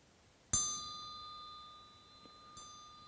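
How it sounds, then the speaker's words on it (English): A Tibetan bell is struck twice, about two seconds apart, and each strike leaves a clear, shimmering metallic tone ringing out softly into quiet. "Tibetan bells"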